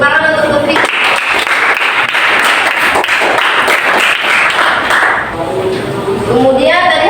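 A classroom of students applauds a classmate during a lesson on hadith, a broad wash of steady clapping lasting several seconds before fading, with a teacher's voice rising over the end.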